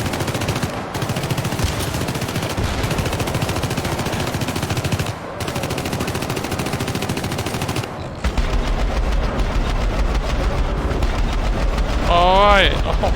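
Dense, sustained gunfire in the game Syndicate: continuous rapid machine-gun bursts, loud and close, with brief gaps between volleys and a rising whine near the end, while voices talk over the shooting.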